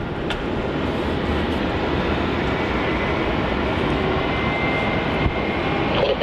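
Jet airliners at Melbourne Airport, including a Dreamliner and Airbus A320 and A321 types, give a continuous, broad engine roar that stays steady and fairly loud throughout, with no voices.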